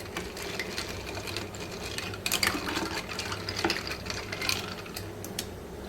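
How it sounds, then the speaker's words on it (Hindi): Falsa juice syrup is stirred with cold water and ice in a glass, giving a steady rapid clinking and rattling with small liquid sloshes. "और उसके बाद हम इसे मिक्स करेंगे।"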